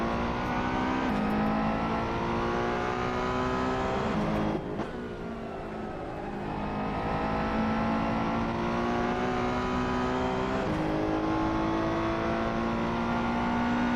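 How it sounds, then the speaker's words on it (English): A race car engine in a racing video game, a Ferrari on the Nürburgring, holds a loud sustained whine and then drops pitch sharply as it downshifts twice, with no talk over it. "Downshifting too early."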